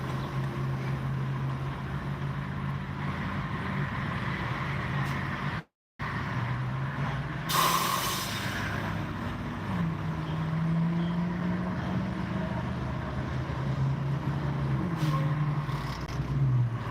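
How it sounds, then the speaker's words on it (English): An Old Dominion double-trailer truck, pulled by a Freightliner Cascadia tractor, goes by on a road. A steady diesel rumble and drone rises and then eases, with a short dropout partway through and a brief hiss later on. "we got an Old Dominion double trailer coming this way, led by a Freightliner Cascadia"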